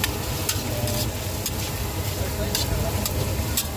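Red chili and spices hitting hot oil in a pan of frying moong pulao, a loud continuous sizzle with sharp crackles and scraping stirs, close and steady.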